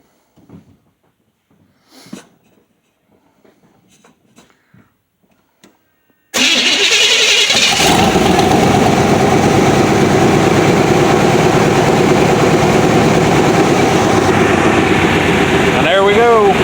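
Engine of a 350 square body truck cranks and catches after a few seconds of quiet voices, then settles into a loud, steady close idle that runs to the end.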